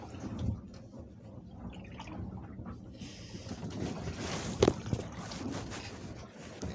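Strong wind gusts buffet a sailboat under sail, a low rumbling rush of wind and water that swells and eases, with a brief knock midway.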